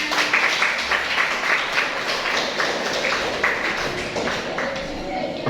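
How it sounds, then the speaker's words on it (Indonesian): Classroom of students clapping for a classmate, steady close applause with scattered taps running throughout, a voice speaking alongside. "Beri tepuk tangan."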